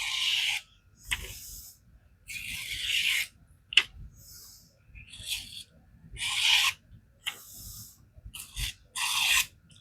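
A Spyderco Endura knife with a VG-10 steel blade scrapes across a coarse Sharpal diamond plate in repeated close, loud, rasping strokes, each a second or so long and separated by short pauses.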